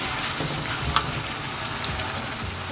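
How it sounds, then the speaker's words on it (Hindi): Spiced chickpeas and potatoes frying in a pot, a steady close sizzle and crackle that carries on evenly with no talk over it. "इसको भूनें।"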